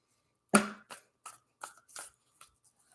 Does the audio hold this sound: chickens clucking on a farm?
no